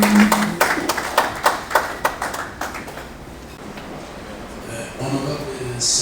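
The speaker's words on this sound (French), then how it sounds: "Sous vos applaudissements, s'il vous plaît." Audience applause at a formal public event, a burst of close clapping that thins out after a few seconds, with some talk in the room underneath.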